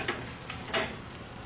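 Ingredients fry in butter and olive oil for an Emilia-Romagna tortelli in brodo, giving a soft, steady sizzle with a few faint ticks and light stirring scrapes, quiet and close.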